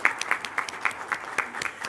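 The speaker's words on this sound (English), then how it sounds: "Yes, round of applause." An audience at the Chiefs of Ontario Fall Chiefs Assembly gives a short round of applause: scattered, fairly light hand claps in a quick irregular patter, moderately close and heard alone.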